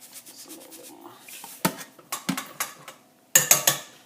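Butter and salt stirred into Haitian plantain porridge in a pot, with soft scraping and a few sharp clinks of a utensil against the pot in short bursts, the clinks loudest toward the end.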